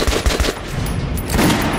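Rapid automatic gunfire in a video game hammers an armored training dummy, a fast, loud stream of shots with no talking.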